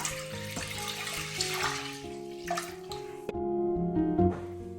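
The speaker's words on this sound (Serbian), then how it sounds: "U nju sipamo 1 litru mleka." One litre of whole milk pours into a cooking pot for a no-bake dessert, making a continuous liquid splashing and gurgling sound close by that rises in pitch as the pot fills.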